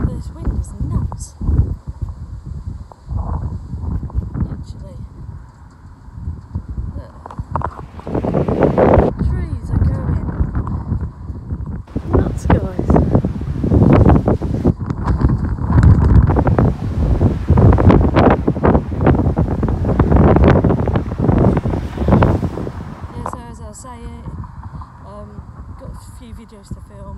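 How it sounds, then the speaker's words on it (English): Strong outdoor wind buffets the microphone in a continuous, loud, gusting roar and rumble that swells and eases for the whole stretch, with a voice partly audible beneath it. "This wind is nuts."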